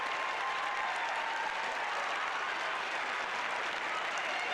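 Steady, dense applause from a women's football stadium crowd at Kingsmeadow as a Chelsea keeper makes a save, a broad continuous roar of clapping filling the whole stretch with no break.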